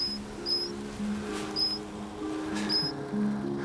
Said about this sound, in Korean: 어디선가 들리는 새끼 수달 울음소리.